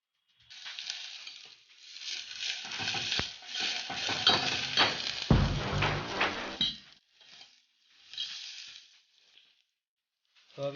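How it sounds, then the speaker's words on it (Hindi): Onions frying in a pan, a close sizzle with stirring scrapes and clinks that rises and fades in bursts, then drops to brief quieter patches. "तो अभी प्याज भुन चुकी है"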